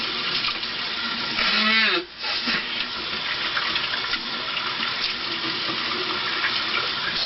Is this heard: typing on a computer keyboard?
no